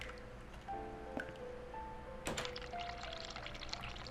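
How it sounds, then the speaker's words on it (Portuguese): A sink tap is opened and runs, water pouring steadily from the faucet with small splashes and a brief clatter partway through, heard at close range and moderately quiet. "Abrir água fria, abrir água quente, fechar a torneira."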